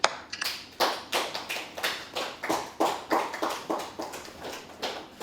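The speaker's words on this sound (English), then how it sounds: "Please join me in clapping, shouting, and stamping your feet for every health and care worker" Steady, rhythmic clapping from a group in a plenary assembly honouring health and care workers, about a dozen even beats, fairly close and without speech.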